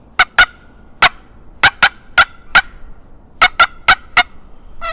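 Sharp, loud cutting calls on a wooden turkey box call: quick, abrupt yelps in clusters of two and three, close and clear, with no talking.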